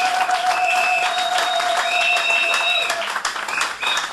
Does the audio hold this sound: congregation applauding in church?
yes